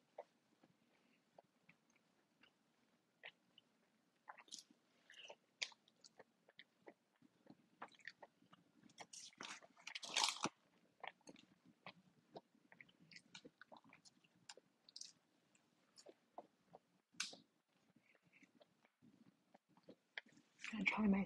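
Close, quiet chewing of a crunchy Taco Bell beef taco, with irregular bites and crackling crunches scattered over a near-silent background, a louder cluster of crunches midway and at the end.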